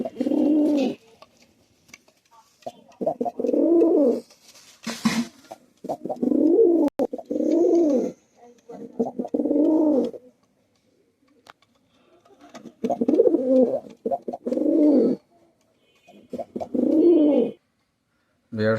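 A pair of Kaldom pigeons coos close by in repeated throaty bursts, several rolling calls separated by short silences, with no speech heard.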